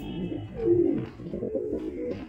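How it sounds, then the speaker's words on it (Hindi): Low, soft cooing of a male Rampuri pigeon, a few throaty murmurs rolling in quiet succession with faint background rustle. "ये देखें भाई ये कबूतर जो बोल रहा"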